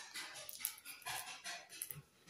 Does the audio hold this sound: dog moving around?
yes